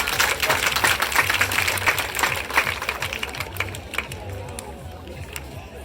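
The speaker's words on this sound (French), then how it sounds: "Applaudissons encore pour cette classe." Sustained applause from a crowd at a school academic excellence ceremony, dense rapid clapping that fills the space, with voices murmuring underneath and tapering off slightly toward the end.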